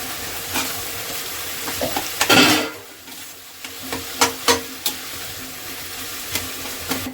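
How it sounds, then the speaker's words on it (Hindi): Onions and tomatoes sautéing in a pan, a steady sizzle with a louder burst of frying as ingredients hit the pan, followed by scattered scraping and stirring clicks, close and alone without talk. "हल्की सी सौटे हो गई है प्याज। इसमें जो टमाटर थे वो डाल देंगे।"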